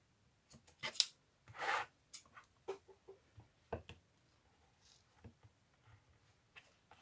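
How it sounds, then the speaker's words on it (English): Scissors trim excess lace in a quiet room, with sparse close snips and small ticks scattered irregularly and one longer rustle near the start. "First need to cut off this excess lace."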